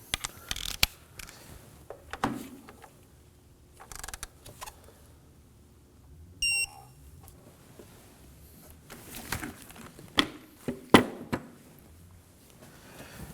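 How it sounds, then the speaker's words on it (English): A torque wrench tightens an ignition coil bolt on a 2011-2016 Kia Optima 2.4L L4, giving a series of creaking ratchet clicks in short bursts separated by quiet pauses, close and clear. "And now we're going to torque it to 9 foot-pounds."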